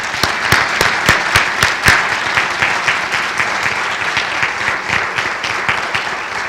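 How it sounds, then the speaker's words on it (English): A room full of people applauds instructors at a college signing day event, loud sustained clapping with a few sharp claps standing out early before settling into an even patter. "let's give them a round of applause"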